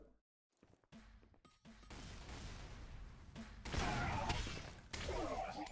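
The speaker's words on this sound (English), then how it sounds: "A nice shot from Mirio." Weapon fire in the Xonotic arena shooter during a one-on-one duel match: a cluster of sharp, booming shots and impacts after a quiet start, loudest midway, with faint game ambience between bursts.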